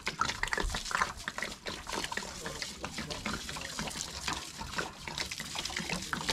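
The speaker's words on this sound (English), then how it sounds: "I'll put some water in there." Water poured from above over layered compost and grass in a backyard worm farm bin, a steady splashing and trickling that runs close and continuous throughout.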